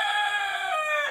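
Ayam cemani rooster crowing loudly and close by, a sustained harmonic call filling the whole moment with no talk over it.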